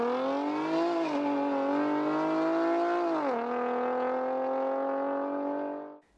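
A Nissan 370Z's naturally aspirated 3.7-litre V6 revs hard, its smooth rich tone climbing in pitch and dropping sharply twice as if shifting, staying loud and close before the sound cuts off near the end.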